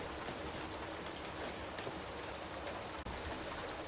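Steady rain falls at night, a dense, even hiss of drops on surfaces that is close and moderately loud, with a tiny click near the end and no voices.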